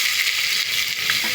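Chopped onion hits hot oil in a heated pot over a wood-fired village stove on a terrace, giving a loud, steady, close sizzle with faint crackles and a stir near the end.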